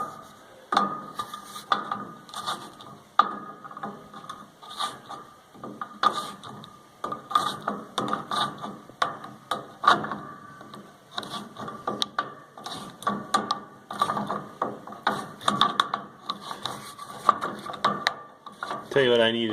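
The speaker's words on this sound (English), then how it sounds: "Got my metric wrench here." A metric wrench turns a bolt on a John Deere baler, and the ratchet gives off irregular clicking and metallic knocks over most of the stretch, close and moderately loud, with some low handling noise.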